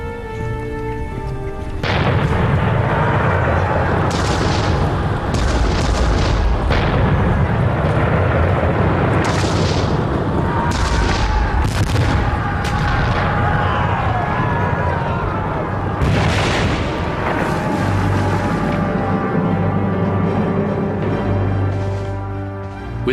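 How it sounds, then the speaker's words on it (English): Cannon and artillery fire in a reenactment of a Napoleonic battle at Lodi, 1796: repeated heavy booms and sharp blasts over a continuous roar of battle noise, loud and dense throughout. "With his men facing withering enemy fire, Bonaparte was in the thick of it. He was actually up there laying in the cannon"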